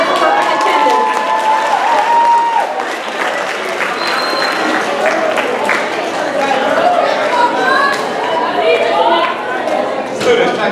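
Students applaud and cheer at a school house meeting honoring perfect attendance, with steady, loud clapping filling the whole stretch and chatter and shouts mixed in.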